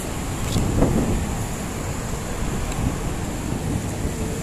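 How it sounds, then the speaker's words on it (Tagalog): Steady broadband wind rumble buffets the microphone throughout, a constant outdoor roar with no talk. "malakas ang hangin ngayon"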